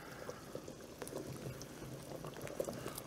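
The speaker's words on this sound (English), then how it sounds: "Now, I'm gonna drop these right in the water." Spaghetti squash pieces dropped into a pot of boiling water, with a steady low bubbling and a few soft splashes and plops, fairly quiet and without any talking.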